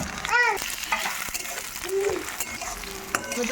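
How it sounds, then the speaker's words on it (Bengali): Onions, chopped tomato and green chilli frying in a pan are stirred, giving a soft sizzle with scraping stirs, while a voice talks briefly over it. "পেঁয়াজ নরম হওয়ার জন্য আবার একটু নাড়া করে নেবো"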